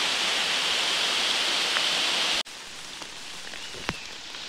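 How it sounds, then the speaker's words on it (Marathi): Steady rain pours down in a forest, a dense even hiss of drops that fills the air, then drops to a softer, closer patter of scattered drops on leaves and surfaces. "तर मंडळी पाऊस पण इलो"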